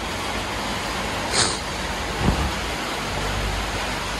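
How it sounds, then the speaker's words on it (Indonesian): Rain falls in a steady, even hiss that fills the whole stretch, with a faint brief rumble partway through and no voices. "Eh, ini ya udah hujan"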